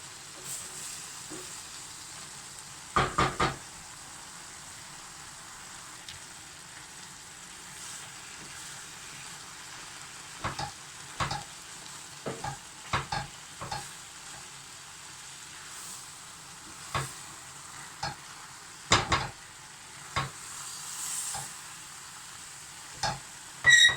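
A spoon scrapes and stirs through thick pumpkin puree in a pot, in scattered sharp strokes over a steady soft simmering hiss.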